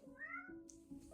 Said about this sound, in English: I'm so sorry, that's my cat.